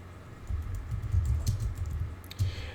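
Typing on a computer keyboard gives a fast, irregular run of close, soft key clicks with a few louder taps, and no talking.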